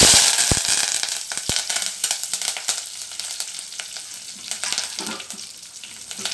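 A couple of spoons of hot oil sizzle steadily as mustard seeds and curry leaves crackle and pop, with sharp spatters scattered throughout.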